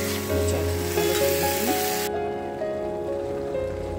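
Poppy seeds frying in a pan give a steady, dense sizzle with a few faint clinks; the hiss drops noticeably partway through while the low crackle carries on.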